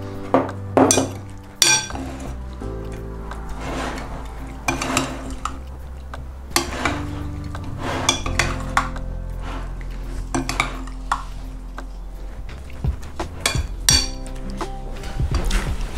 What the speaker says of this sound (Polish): i mieszamy